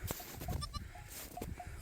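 A newborn goat kid gives several short, thin bleats in quick succession, close by, over a low background hum, on a snowy day.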